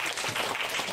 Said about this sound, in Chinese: 掌声鼓下吧哈。